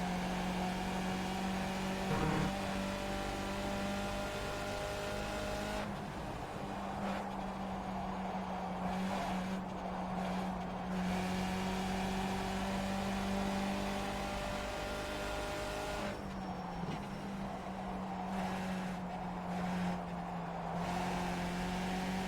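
A Skip Barber race car's engine in iRacing at Mosport drones and revs continuously, with steady tonal whine rising and falling as the throttle shifts, heard alone throughout.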